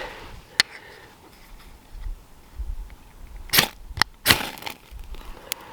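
A quiet crackle builds into a few sharp, quick snaps and a brief whooshing flare as cattail fluff tinder catches fire close by, over faint background hiss.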